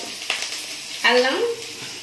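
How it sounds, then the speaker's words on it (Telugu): Onion, green chili and ginger garlic paste sizzling in hot oil, a steady soft frying hiss with a brief louder burst of crackle as ingredients are stirred, close by. "ఉల్లి, పచ్చిమిర్చి, అల్లం వెల్లుల్లి పేస్ట్ ఇలా వేగుతుంది కదండి"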